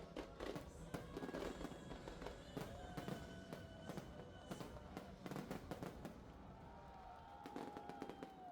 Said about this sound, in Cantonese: 壓軸係非常精彩嘅煙花 show